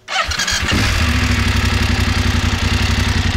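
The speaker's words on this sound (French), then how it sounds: "Il est temps de la démarrer, d'écouter un petit peu la sonorité de ce bicylindre" A BMW F850 GS motorcycle engine cranks and catches, then settles into a loud, steady, throbbing twin-cylinder idle close by.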